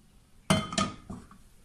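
A metal frying pan with a little olive oil in it set down on a stovetop, a sharp clank followed by two lighter clinks as it settles, close and short with quiet around it.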